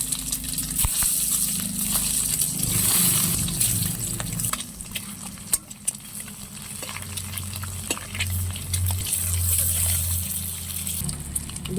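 Eggs coated in salt and turmeric fry in hot oil in a wok, giving a steady hiss and crackle that runs without a break, with faint stirring scrapes now and then.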